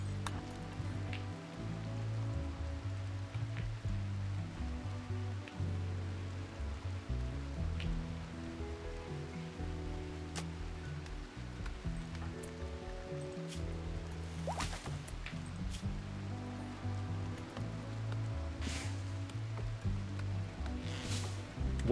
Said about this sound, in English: It's actually cooling off outside because of the rain.